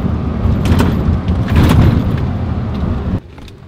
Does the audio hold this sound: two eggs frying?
no